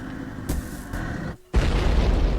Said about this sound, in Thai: รีบไปรีบไป ก่อนที่ระเบิดจะมา